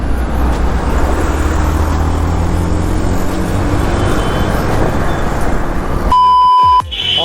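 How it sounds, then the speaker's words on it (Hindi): Heavy road traffic builds up at roadworks on the route to Pune, heard from a TVS Jupiter scooter as a loud, steady engine and road roar that ends in a sharp electronic beep. "इसलिए इतना ट्रैफिक है।"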